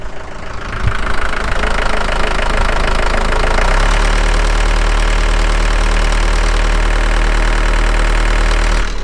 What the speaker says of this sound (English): It's just that making a rattling sound.